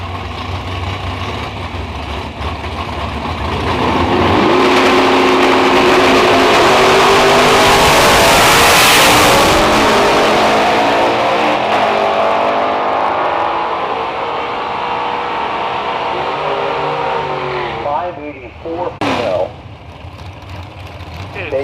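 A drag race car with a small block engine and 5-speed transmission roars loudly and steadily up close, swelling to a peak, holding, then easing off, with a voice speaking over it.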